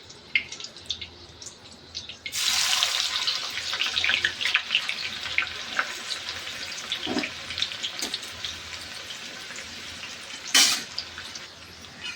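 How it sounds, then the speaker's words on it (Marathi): Sliced onions drop into hot oil and sizzle loudly for dum biryani, the hiss holding steady with a few spatters and light stirring clinks. "तर चला मग आता कांदा पहिले फ्राय करून घेऊ।"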